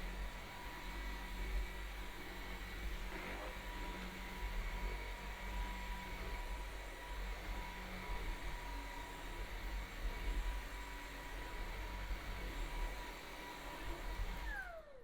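A DreameTech T20 cordless vacuum runs steadily on a rug in its strong-suction mode. The loud, even motor roar is close and holds without a break for about fifteen seconds, then winds down at the end.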